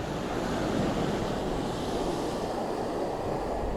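Ocean waves break onto a stony beach at San Sebastián de La Gomera in the Canary Islands, making a steady, full roar of surf with wind noise. The sound is continuous and loud, with no speech.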